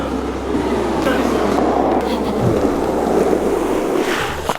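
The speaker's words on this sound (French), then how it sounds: "Le programme, c'est on va faire des tours de tracteur tondeuse." A ride-on lawn mower's low, steady engine drone rumbles throughout, with a voice speaking faintly over it and a brief clunk midway.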